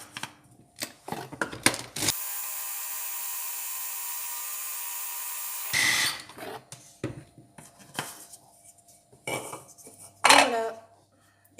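Blender blade grinding peanuts into peanut butter, a steady loud whirring drone that runs for about four seconds between bursts of clattering and knocking from the jar and spatula.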